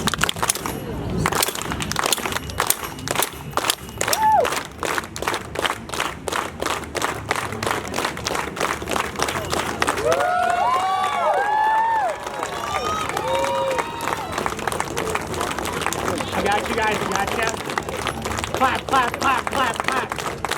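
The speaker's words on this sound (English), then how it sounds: "Everybody clap with. Everybody clap." A group on a Florida Keys road trip claps along in a rhythmic, evenly spaced beat, close and loud, with voices and a shout rising over the clapping midway.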